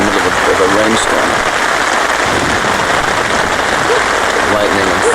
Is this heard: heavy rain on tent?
yes